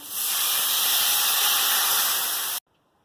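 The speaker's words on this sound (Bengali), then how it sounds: "পরিমাণ মতো হলুদ দিয়ে দিলাম। জল দিয়ে দেবো।" Water poured into a hot pan with turmeric bursts into a loud, continuous steamy hiss that holds steady for over two seconds, then cuts off abruptly into near silence.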